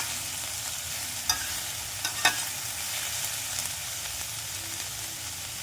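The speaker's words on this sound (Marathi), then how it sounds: "कांदा थोडासा परतवायला आला आता त्यात कॅप्सिकम टाका" Onion and capsicum sauté in a pan for gobi Manchurian fried rice, a constant close sizzle broken by a few sharp stirring clicks and scrapes, with no voices.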